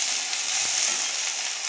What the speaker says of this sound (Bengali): আমার কড়াই একটু একটু জল পড়ছে বলে বেশি আওয়াজ হচ্ছে